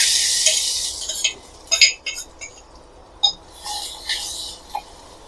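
Crushed garlic and ginger sautéing in a pan for pumpkin rolls, with soft sizzling under light clinks of a spoon against the pan in a run of brief clustered bursts, near and fairly quiet.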